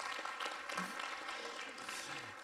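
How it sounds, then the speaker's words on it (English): A conference audience applauds at the close of a talk, a steady faint wash of clapping with no voices over it. "Yes, you can applaud."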